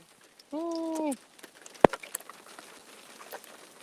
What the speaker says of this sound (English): It's like partial hail, partial rain.